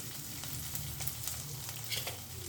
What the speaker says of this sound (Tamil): உப்பு போட்டு கொஞ்சம் நேரம் இதை அப்படியே கிண்டி விடலாம்